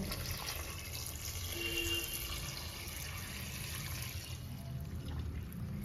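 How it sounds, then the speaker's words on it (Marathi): Hot water being poured steadily into a pot of mutton curry, a soft continuous rushing with a low rumble, fairly quiet. "गरम झालेलं पाणी आहे 1 पातेलं भरून, तर ते मी त्याच्यामध्ये टाकते आहे"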